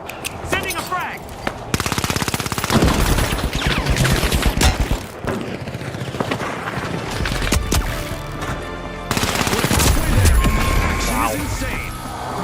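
P90 gunfire in the first-person shooter The Finals during a ranked match, with sustained rapid automatic bursts and crashes filling the mix loudly. A voice talks over the action in places.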